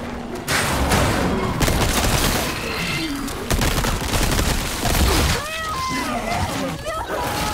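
A heavy grenade explodes in Resident Evil 4 Remake, a booming blast amid a dense, chaotic barrage of gunfire and thuds, with someone speaking over the loud game action.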